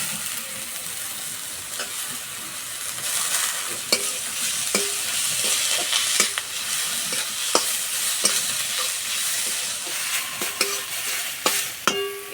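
A medium-sized grated potato stirred into fried onions in a hot pan, giving a steady close sizzle broken by repeated scraping spoon strokes and no talk.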